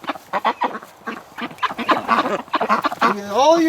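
Several ducks quack and honk close by in a busy, overlapping chorus, loud and irregular.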